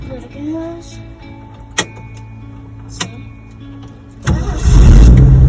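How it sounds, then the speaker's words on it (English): A 1972 Ford F100 truck with a 240 cubic inch 3.9 L inline-six cranks over with a few clicks and clunks, then catches and fires into a loud, rough idle close by. "you want to start the truck?"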